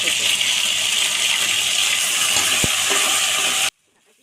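Chicken biryani masala of whole spices, chillies, curry leaves, garlic paste and dry spices frying in a pan, a loud steady hiss and sizzle with stirring scrapes at close range, then a sudden cut to near silence.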